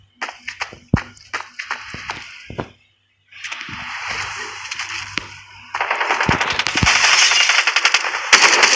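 Rapid bursts of gunfire ring out in the Hyper Front shooter game, a triple-shot weapon firing repeated sharp shots in quick clusters, then a denser sustained volley, loud and close.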